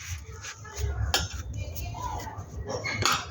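Clattering of a lid and pots as sago paratha dough is covered in a home kitchen, a few sharp clinks and knocks over steady background clatter, with someone talking underneath.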